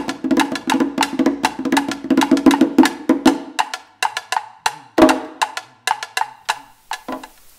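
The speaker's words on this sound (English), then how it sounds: "without the congas and only quinto, clave and kata." Colombian rumba percussion with quinto, clave and kata but no congas, sharp hand-drum slaps and wooden clicks in a quick syncopated groove, busy and close at first with a low drum hum, then thinning to sparse crisp hits.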